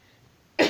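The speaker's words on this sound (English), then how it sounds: "I just had this coughing spree like my throat was dry" A single sharp cough from a dry throat bursts out loud and close after a stretch of near-silence, cutting off abruptly.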